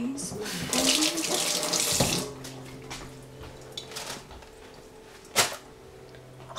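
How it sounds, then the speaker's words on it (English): Tap water runs in a kitchen sink while hands are rinsed during mayonnaise making: a loud, steady rush for about two seconds, then a quieter trickle with faint clatter and one sharp knock near the end. "Wash, rinse my hands."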